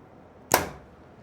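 One loud shot from a $150 budget compound bow: a sharp snap of release followed by a brief buzzing vibration that dies away within a fraction of a second, close by.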